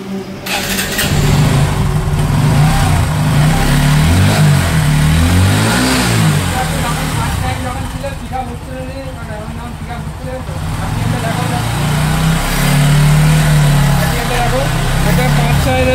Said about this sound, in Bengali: ট্যাঙ্কি তো স্টার্ট করে তোমরা দেখাই।